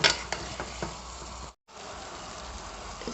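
Pieces of mutton frying in oil in a pan, giving a steady close sizzle with a few stirring clicks and a brief gap of silence partway through.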